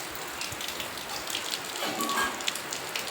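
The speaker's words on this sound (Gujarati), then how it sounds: "ચાલુ જ છે વરસાદ" Rain falls steadily on surfaces outdoors, a continuous close hiss of drops with scattered louder taps and no voices.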